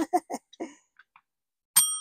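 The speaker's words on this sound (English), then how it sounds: "All right, ring the bell." A small bell rings once with a bright, sustained ring that fades over a moment, heard close after a few brief coughs or vocal sounds.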